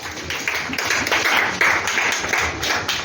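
A church congregation applauds, a dense run of hand claps that swells in steady bursts for a few seconds, fairly loud and close in a reverberant hall.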